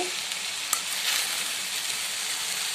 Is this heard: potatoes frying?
yes